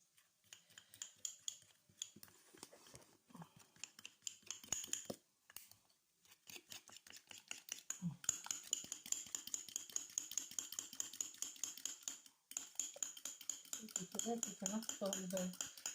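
Rapid, steady scraping clicks of a whisk beating egg and flour in a bowl, continuous and close, with brief pauses.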